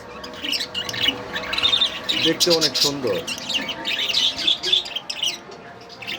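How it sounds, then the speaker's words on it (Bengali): A 1.5-month-old lutino budgerigar chirps and squawks in rapid, bright bursts close by, while a person speaks briefly partway through. "এই যে একটি পাখি, লটিনো বাজরিগার জাপানিজ"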